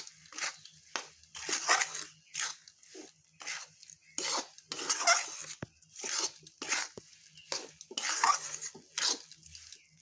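Semolina and gram flour barfi mixture being mixed in a vessel off the heat, with a spoon scraping and clanking in repeated close, rhythmic bursts and short pauses between them.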